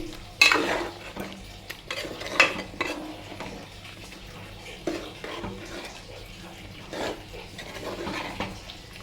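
Chicken mixed by hand with green chili paste in a bowl gives soft wet squelching and occasional light clinks against the dish, fairly quiet with irregular stirring motions.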